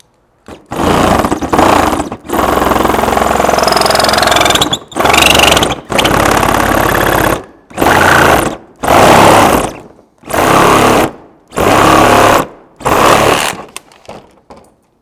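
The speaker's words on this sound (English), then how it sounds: "I am gonna finish that little bit off with the Sawzall" A Sawzall reciprocating saw cuts in loud, close bursts, running hard for a few seconds at first, then in shorter, evenly spaced pulses separated by brief silences.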